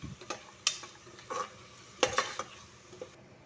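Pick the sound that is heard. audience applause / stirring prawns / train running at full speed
stirring prawns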